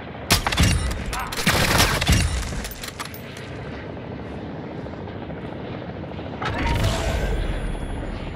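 Gunfire and a helicopter in the video game DMZ, set in Vondel: loud bursts of shots in the first few seconds over a steady rotor roar, with another burst near the end.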